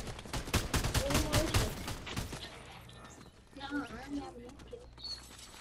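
Rapid gunfire in the video game Fortnite, a dense burst of shots for about two seconds, then quieter game sounds with a voice talking.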